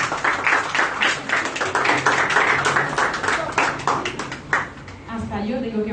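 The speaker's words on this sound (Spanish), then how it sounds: "Ahora yo quiero, por favor, que recibamos con un aplauso" An audience at the opening of an optical centre in Santiago applauds a speaker being welcomed, with brisk, moderately close clapping that continues for several seconds and then fades as someone begins talking.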